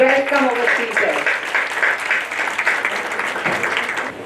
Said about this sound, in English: Let us give a round of applause to welcome our speaker.